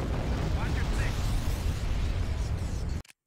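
Heavy, continuous barrage of weapons fire in a space battle video game, loud and dense like rumbling explosions, cutting off abruptly into silence at the end.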